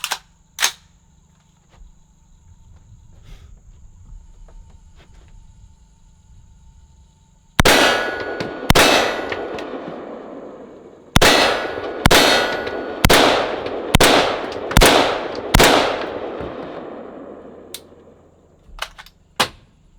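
An AR-15 fires 5.56 full metal jacket 55-grain rounds into an armor plate. A loud ringing clang comes first, then a rapid string of about seven sharp metallic impacts, each with a short bright ring, and a couple of faint ones at the end.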